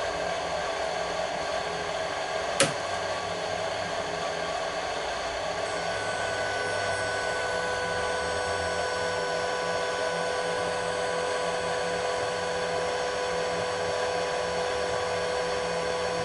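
A milling machine running a 50 mm four-flute face mill across cast iron gives a steady, even whirring hum throughout, with one brief sharp click early on.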